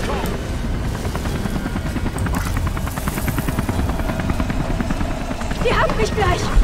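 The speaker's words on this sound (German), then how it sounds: "Helikopter!" Helicopter in the video game Beyond Two Souls, a steady, rapid rotor chop that stays loud and close throughout, with voices talking over it.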